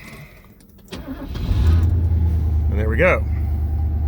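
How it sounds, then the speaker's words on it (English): A 1981 Mercedes 380SL is started without a boost: a brief cranking whir catches into a steady, loud low idle that keeps running, while someone speaks briefly over it. "without boosting the car off, I'm going to start it"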